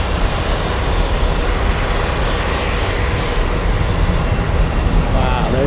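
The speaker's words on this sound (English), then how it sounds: "Aer Lingus will give it another try, flying in from Dublin." An Aer Lingus airliner from Dublin roars steadily overhead on a go-around at Boston Logan, a loud continuous engine rush filling the whole stretch.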